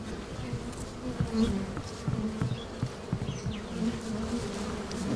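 Honeybees swarm in a steady, dense drone as they are brushed off a surface, the buzzing growing agitated and close throughout.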